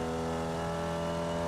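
A Formula Vee race car engine revs hard in a steady, sustained buzzing drone at race pace, loud and continuous with no speech over it.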